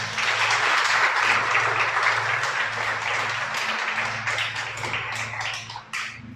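Audience applause at a Shabbat message gathering, a dense sustained wash of many hands clapping, loud and close at first, then thinning and fading toward the end.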